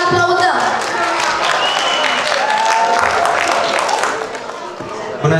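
An audience claps steadily for a young contestant at a Romanian high school show, a dense, sustained round of applause with crowd noise and faint voices mixed in, thinning briefly near the end.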